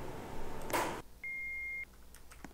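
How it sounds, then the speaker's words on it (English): A single steady electronic elevator beep in a Roblox game holds for about half a second after a brief burst of noise, with quiet room tone around it. "the beep is different"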